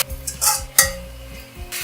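Onions, green chillies and tomatoes frying in a pan, a brief clattering stir with sizzling bursts and a sharp metallic clink from a utensil against the pan.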